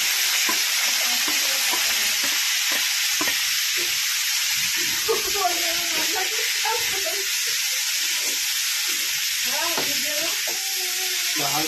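Food frying in hot oil, a continuous loud close sizzle and spatter throughout, with intermittent stirring and faint voices in the background.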